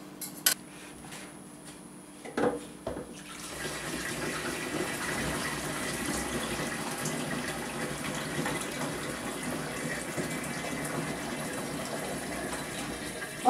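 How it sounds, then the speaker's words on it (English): Warm water running from a tap and filling a container of fruit for home brew, a steady gentle gush after a few faint clinks at the start, close and quiet. "we are going to keep adding warm water, 100 degrees to 105"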